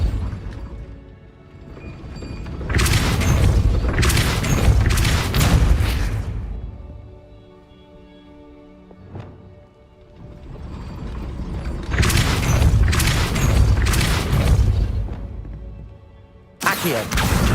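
A Depulso spell cast in the video game Hogwarts Legacy, heard as loud mechanical grinding and rumbling bursts, two long stretches of churning clatter with a brief thud between them, with no talk.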